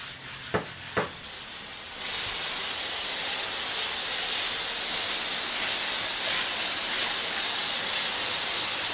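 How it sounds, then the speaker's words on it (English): A hose spraying water across a concrete brewery garage floor to rinse off cleaning chemical, a loud, continuous close hiss that starts after a couple of brief knocks. "I go ahead and hose out to rinse off all that chemical."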